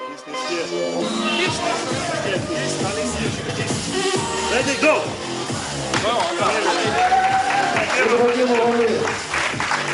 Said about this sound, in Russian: Решающий выход финалистов сопровождался бурными аплодисментами